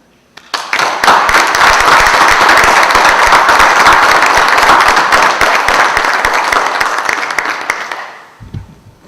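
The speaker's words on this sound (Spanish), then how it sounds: "les solicito a ustedes un fuerte aplauso a don Darío" A book presentation audience breaks into loud, sustained applause with sharp individual claps, swelling quickly and fading out near the end.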